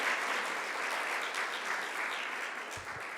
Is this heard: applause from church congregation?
yes